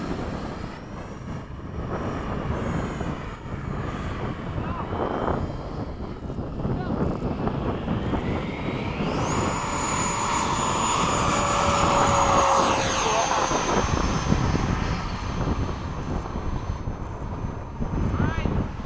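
Freewing 90mm F-22 RC model jet making a flying pass at sunset, its ducted-fan whine rising and sweeping overhead over steady outdoor wind noise.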